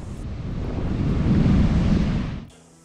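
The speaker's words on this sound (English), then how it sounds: "watching the waves smash against them" Waves crash against rocks on a windy beach along a coast with rough seas, giving a loud broadband roar of surf with wind buffeting the microphone that swells and then drops away near the end.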